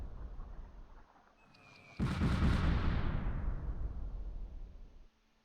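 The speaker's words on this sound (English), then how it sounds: "Here comes the artillery. More artillery. Double artillery." A heavy artillery blast from the Close Combat wargame bursts suddenly after a quiet low rumble, then rolls and decays for about three seconds before cutting off.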